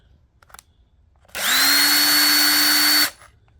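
A power drill drives a screw into the wooden playfield of an Earthshaker pinball machine under restoration, one steady high whine lasting under two seconds after a quiet lead-in, close and loud, no talking.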